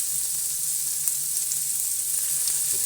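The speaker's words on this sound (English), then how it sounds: "You're going to hear them hit that pan with that beautiful sear" Scallops sear in hot oil in a pan, a steady close, loud hiss of sizzling that holds evenly throughout, with faint crackles and pops scattered over it.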